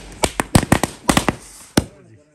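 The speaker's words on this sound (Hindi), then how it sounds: "यस अब हम फोड़ेंगे थोड़े पटाखे।" A quick series of sharp, snappy firecracker cracks in a mountain village in Uttarakhand, about ten small pops in an irregular burst, close by, then fading to quiet.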